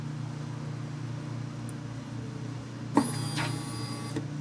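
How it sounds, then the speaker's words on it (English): A truck's fuel pump whirs on right after the key turns, a short, faint electric hum lasting about a second over a steady low engine-bay drone. "we're going to be listening for that fuel pump to kick on"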